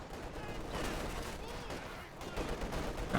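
Gunfire in the Company of Heroes 2 strategy game as Soviet Guards fight German Grenadiers: continuous crackling rifle and machine-gun bursts with distant thuds, a busy battle din at moderate level.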